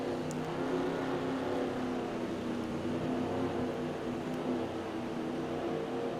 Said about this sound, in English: There's only, 16 cars on the track right now out of 23.